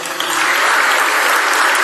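A church congregation claps loudly during a sermon, a dense, steady burst of applause filling the whole moment with no break.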